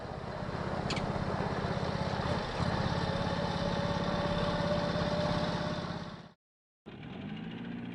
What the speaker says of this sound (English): Here's the real John Deere Gator.